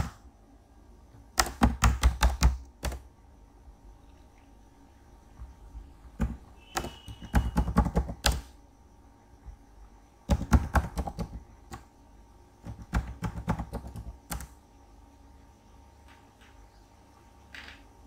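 Bursts of quick keystrokes on a computer keyboard tap out a website address in several clustered runs separated by pauses, close and clear with no speech.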